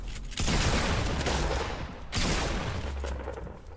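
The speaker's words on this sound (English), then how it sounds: "I got a lucky shot off on there" Gunfire in Fortnite on PC, two long dense bursts of rapid shots with a short break between them, loud and close and without talk.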